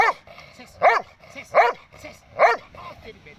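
A Rottweiler barks four times in a steady rhythm, close and loud, with brief quiet gaps between each bark.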